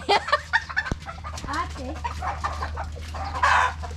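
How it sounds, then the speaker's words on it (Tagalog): Chickens clucking nearby, a few short bursts of clucks and squawks over a low steady hum, with people talking in a Filipino language over them. "Yung manok ko, mag-ingayan lang."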